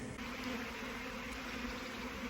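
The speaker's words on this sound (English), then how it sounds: "I'm stuck in the middle of a swarm in my back garden." A swarm of bees fills a back garden with a dense, steady buzzing hum, close and continuous, with no voices over it.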